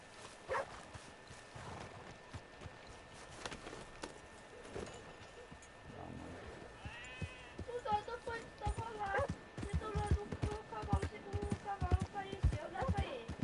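Horse hooves clip-clopping in Red Dead Redemption 2, a steady run of hoof strikes that grows louder and busier toward the end, heard under someone talking.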